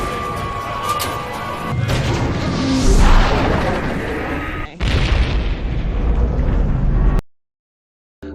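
Loud missile explosion aboard a Battlestar Galactica ship as a drone missile's restraint breaks loose: a sustained roaring blast with rumbling debris, a second heavy impact midway, then abrupt silence.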